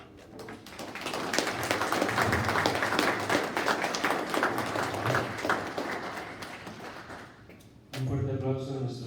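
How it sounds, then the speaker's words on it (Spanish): An audience applauds after a lecture on corruption and taxes in Mexico, swelling to a sustained burst of clapping that fades, then a voice speaks over the room. "Un fuerte aplauso a nuestro estimado disertante."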